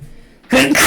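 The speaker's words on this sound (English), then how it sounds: "I don't know if she woke up because of my sneeze." A streamer lets out a single sudden, loud sneeze near the end, after a short quiet stretch.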